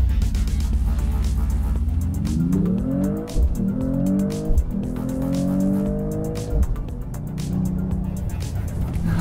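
Mercedes-AMG E 53 Hybrid 4MATIC+ doing a race-start launch: a loud engine roar climbs through several rising gear sweeps over a few seconds, with tire noise underneath, then settles into a steady cruise.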